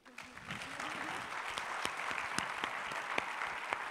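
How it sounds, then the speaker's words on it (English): A conference audience at the Africa CEO Forum bursts into applause, building quickly into a steady, moderately loud clapping with a few sharper individual claps standing out. "So please give yourselves a big round of applause."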